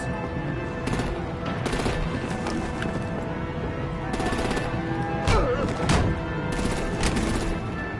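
Artillery and rapid gunfire rattle continuously in the video game Batman: The Enemy Within, with dense overlapping bursts and sharper cracks punctuating a loud, busy battle din throughout.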